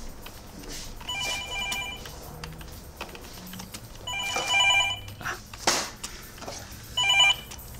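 A home telephone rings in several short, bright bursts spread over the clip, moderately loud, with light clattering and household noise between the rings.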